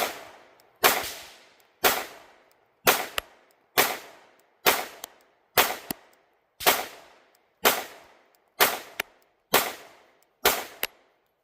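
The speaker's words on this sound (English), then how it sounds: "As you can see, I am cutting bullet holes with it, and we're at about 11 yards right now." Gunshots from a Q Sugar Weasel 5.56 rifle fired at a target about 11 yards away, a series of eleven loud, sharp cracks at a roughly steady one-second pace, each followed by a short decaying echo.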